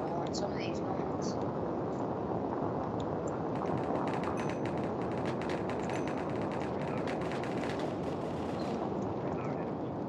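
Gunfire rings out in the online shooter game Cops and Crims, with a rapid scatter of sharp shots and bursts over a dense, constant background. A player talks throughout.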